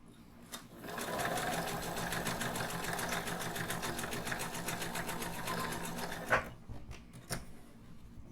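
A sewing machine stitches a fabric shoulder bag at a short stitch length, with a steady fast mechanical whir running close and continuous for about five seconds, then stopping, followed by a few faint handling clicks.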